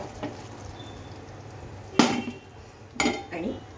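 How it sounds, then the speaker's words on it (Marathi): Metal pans clanking on a kitchen stove while cooking paneer, with a couple of sharp knocks spaced about a second apart over a low background hum. "तर आपण हा आता पॅन चेंज करूया"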